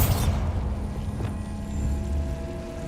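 Bombarda explosion spell cast in the PC video game Hogwarts Legacy: a sharp blast at the start that decays into a low rumbling tail with a smaller burst midway, loud and close, no voices.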